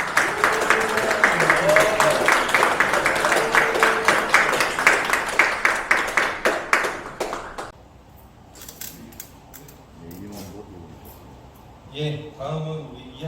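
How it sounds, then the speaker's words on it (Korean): A crowd at a political party office event claps in a steady rhythm for several seconds, then the applause stops abruptly, leaving quiet room noise and brief voices. "크게 박수로 환영합니다."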